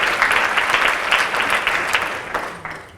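An audience at a French conference on gender equality applauds a speaker, a lively burst of many clapping hands that holds for a few seconds and then begins to thin out.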